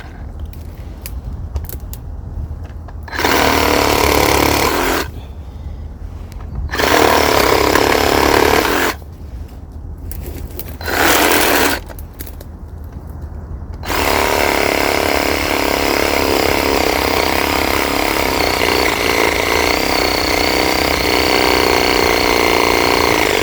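A Black and Decker 20v reciprocating saw cutting dead wood: several short loud bursts of buzzing sawing separated by pauses, then one long continuous cut, close and alone.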